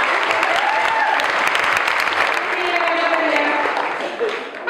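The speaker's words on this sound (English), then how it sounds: "we could all clap again for them" Sustained applause from an audience at a community fitness challenge finale, steady and full-bodied clapping throughout with a slight dip near the end.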